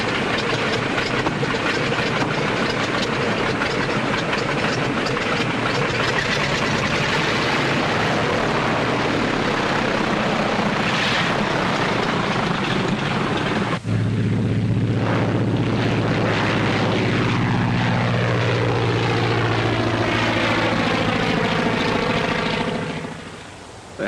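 A propeller airplane from a 1939 aviation film drones with a steady, loud engine roar, then passes by as the pitch of its engine hum sweeps downward before fading out.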